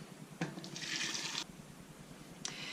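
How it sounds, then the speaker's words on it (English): Boiling water is poured from a kettle over vegetable scraps in a pot to make stock: one short, splashy pour, then a brief second trickle, close and moderately loud. "And I've got some boiling water here."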